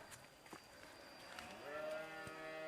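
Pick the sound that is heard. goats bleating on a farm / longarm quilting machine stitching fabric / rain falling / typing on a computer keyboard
goats bleating on a farm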